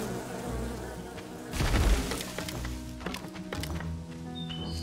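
Bees buzzing in the video game Len's Island, a soft insect drone under light outdoor ambience, swelling briefly louder midway before settling back.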